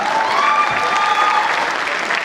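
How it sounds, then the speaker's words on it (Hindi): Loud, sustained applause from a stand-up comedy audience at a Sunil Pal show at Dogma Soft, steady clapping filling the whole stretch. "थोड़ा जोरदार ताली पत्नियों के लिए प्लीज।"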